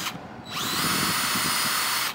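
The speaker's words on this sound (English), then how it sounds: "the drill does bind up pretty quick." A power drill bores into a radiused section while a Reefurl roller reefing furler is fitted on a sailboat. A short start is followed by a steady, loud, close whine with no talk.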